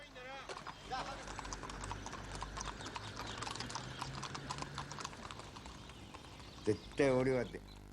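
Horse hooves clip-clop steadily throughout as riders in samurai gear head to a festival in Japan, mixed with crowd noise and voices, with a brief louder burst near the end.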